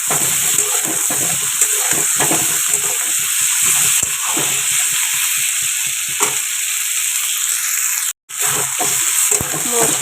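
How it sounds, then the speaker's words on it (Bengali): Spices with a large ripe chili sizzle in a hot pan for a Bengali dish, a steady, close frying hiss broken by repeated scraping stir strokes, with one short dropout. "মশলা ভালো করে ভাজা হয়ে গেছে"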